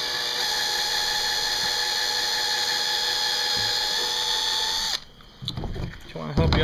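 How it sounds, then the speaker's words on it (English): High-pitched whine of a power drill running steadily for several seconds, then stopping, followed by brief clatter and handling noises nearby. "you want to go ahead and drill this"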